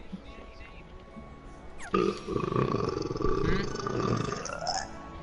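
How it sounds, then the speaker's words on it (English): A loud, wet burp rumbles up for several seconds, guttural and drawn out, following a brief stretch of quieter background sound. "I don't know why, but that burp sounded wet."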